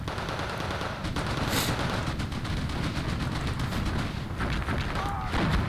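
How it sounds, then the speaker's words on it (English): Gunfire from a Spähwagen armored car in a competitive WW2 real-time strategy game, with continuous dense bursts and booms of battle layered into a loud, sustained din with no talking. "now he's opening fire with a Spähwagen"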